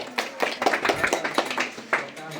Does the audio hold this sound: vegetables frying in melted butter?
no